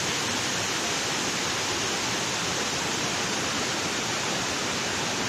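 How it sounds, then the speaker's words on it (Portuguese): Water from a flooded reservoir in Varjota, Ceará, pours over the spillway in a steady, dense, loud roar that holds unchanged throughout, with no voices. "apesar de toda essa água escoando aqui pelo sangradouro do açude"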